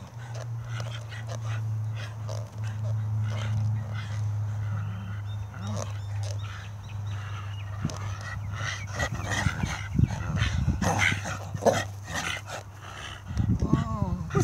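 A Staffordshire bull terrier plays tug of war with a chew toy, holding a long, low, steady growl close up, then breaking into whines, snorts and excited yips while tugging.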